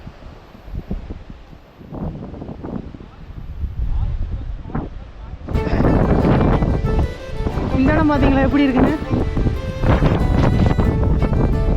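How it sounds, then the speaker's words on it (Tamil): Strong wind buffets a hilltop, roaring and rustling trees, rising into a louder, steadier gust partway through while someone talks over it. "காற்று பயங்கரமாக வீசுது"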